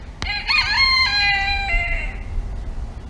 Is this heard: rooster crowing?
yes